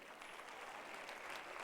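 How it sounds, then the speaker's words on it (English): Soft, distant applause from a group at a school achievers' event, a faint continuous patter of clapping with no voices. "Clap hands for her."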